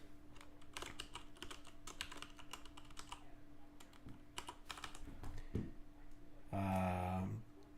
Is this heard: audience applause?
no